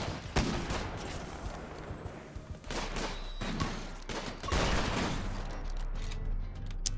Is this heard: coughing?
no